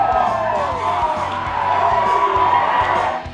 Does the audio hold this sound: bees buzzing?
no